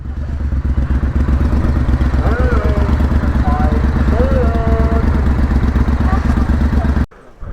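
A motorcycle engine runs at a steady, throbbing idle close by with a light mechanical clatter, while people talk over it, until the engine sound cuts off abruptly near the end.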